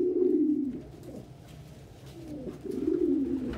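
A male pigeon courting coos in two drawn-out, throaty rolling bursts, close and fairly soft, with a quiet pause between them and no talking.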